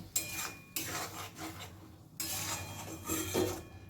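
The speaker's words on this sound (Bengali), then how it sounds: "খুব ভালো করে মশলাটা কষিয়ে নেব যতক্ষণ না মশলা থেকে তেল বের হয়ে আসছে" Masala paste being stirred and fried with chilli and sugar in a pan over a medium gas flame for a vegetarian paneer dish; close scraping strokes of a spatula in bursts over a soft sizzle, no talk.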